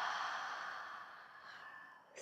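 A slow, soft breath releases through the nose during a yoga exercise, a long airy exhale that fades gradually over about two seconds.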